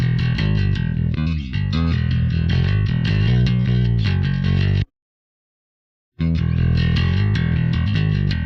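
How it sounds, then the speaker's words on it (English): Loud music with a gritty, distorted and saturated tone from a distortion and saturation mixing plugin, iZotope Neutron 4 Elements, plays, cuts to silence for about a second, then resumes with the same crunchy character. "a bit more distortion and saturation and punch. We can increase a bit the distortion here."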